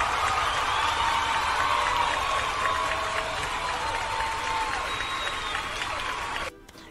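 Applause during a live-streamed chat about a House of the Dragon episode, sustained clapping with a faint crowd-like wash under a bright tonal layer, fairly loud and steady before cutting off abruptly near the end.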